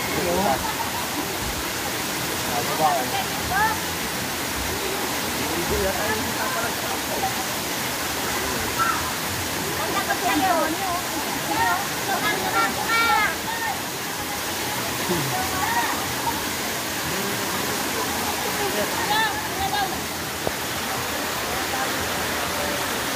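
Bantakay waterfall in Quezon province pours steadily as a constant broadband rush of falling water, loud and continuous, with people talking and calling out over it throughout.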